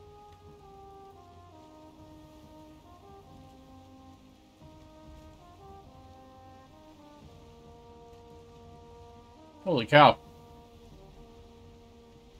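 Steady rain falls through a thunderstorm in the game Valheim, layered under sustained game music, with one sudden loud crack of a lightning strike near the end and a brief spoken exclamation.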